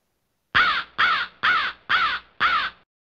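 A crow sound effect caws five times in an even, evenly spaced sequence, loud and close against silence.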